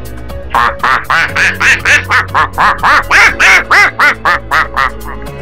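A voice imitates a duck, quacking in a steady run of about fifteen short, nasal calls, loud and close, with no pause between them.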